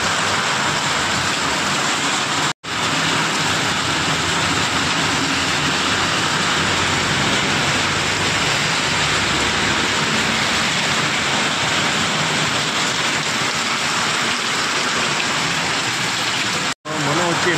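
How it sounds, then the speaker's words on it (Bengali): Heavy rain pours steadily near a car on a drive to Surulia Mini Zoo in Purulia, making a loud, unbroken broadband roar that barely changes for the whole stretch, with two brief dropouts. "বৃষ্টিটা দেখো খুব জোর হচ্ছে"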